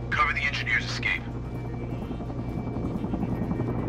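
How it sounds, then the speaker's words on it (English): Helicopter from the video game Sniper: Ghost Warrior 3, a steady rotor drone throughout, loud and close, with a voice speaking over it at the start. "Chopper has visual on the dam."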